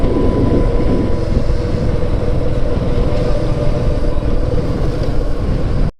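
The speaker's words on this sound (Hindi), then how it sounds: "इंजन ब्रेकिंग का सपोर्ट लेना पड़ रहा है।" Motorcycle engine braking down a hill on a mountain road toward Munsyari, a loud, steady low rumble drowned in wind buffeting, continuous for several seconds with no talk.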